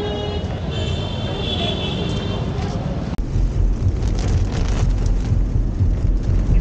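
Heavy rain in Jaipur, Rajasthan, a dense steady hiss and patter blanketing the street, with a sharp crack partway through and the downpour growing rougher and louder afterward, traffic noise mixed in beneath.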